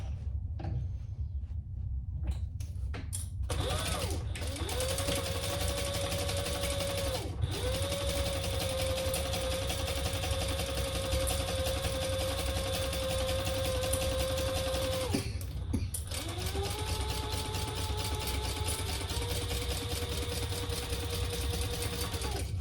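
Sewing machine stitching the bottom seam of a fabric tote bag, a steady close mechanical whir running through long bursts with brief pauses and a change of pitch between runs, no talk.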